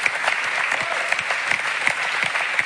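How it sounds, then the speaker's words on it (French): Steady applause from a crowd, dense clapping throughout with a few sharper claps standing out, fairly close and without speech. "Là, on peut quand même l'applaudir."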